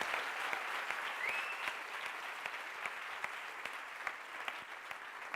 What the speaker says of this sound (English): Round of applause, all of you